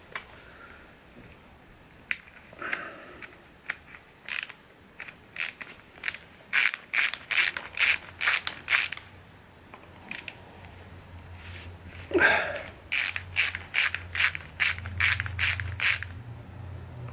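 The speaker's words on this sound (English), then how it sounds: "Now I can remove these screws and" Screws being backed out of the cylinder head of a Yamaha XS650 engine during a teardown: a long run of quick, crisp ratchet clicks in bursts, close and fairly loud, with a short scraping pause midway and no talking.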